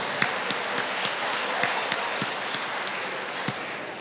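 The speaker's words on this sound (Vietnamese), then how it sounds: "vậy vỗ tay mình, vỗ tay." A church congregation claps together at a teacher's prompt, a dense steady patter of applause in a room with sharp clap peaks standing out, moderately loud throughout.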